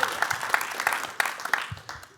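Audience applause from a live show crowd, a burst of many hands clapping that swells and then tapers off over a couple of seconds, fairly close and unaccompanied.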